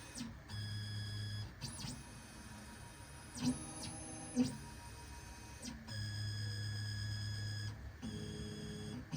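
A Silca Gymkhana 303 key cutting machine runs with a steady mechanical whir and hum, pausing briefly and shifting pitch as its motion changes, with a couple of sharp clicks midway and no talking.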